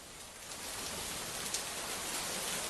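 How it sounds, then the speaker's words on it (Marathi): Steady rain pouring continuously in Pune during a monsoon downpour, a dense, even hiss of falling water at moderate level with no pauses or voices. "इकडे पुण्यामध्ये सुद्धा पावसाची संततधार सुरू"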